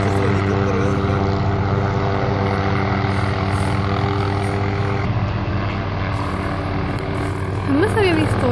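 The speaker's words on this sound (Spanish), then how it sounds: "Ese es el helicóptero ese, creo." A helicopter pruning trees from the air over a residential neighborhood produces a loud continuous droning rotor and engine roar that fills the whole stretch, with a few faint voices under it near the end.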